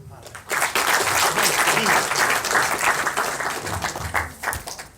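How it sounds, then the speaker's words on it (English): Audience applause at a colloquium after a talk, a dense burst of many hands clapping that swells quickly and holds steady, with voices mixed faintly in the crowd noise. "Big round of applause for Ms. Hera."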